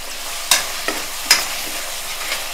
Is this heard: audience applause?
no